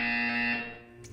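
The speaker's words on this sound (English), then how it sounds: "When you hear the buzzer, stare at the art." A loud, steady electronic buzzer tone from the video game Portal 2 sounds for about half a second, then cuts off into a faint hum, with a brief soft noise near the end.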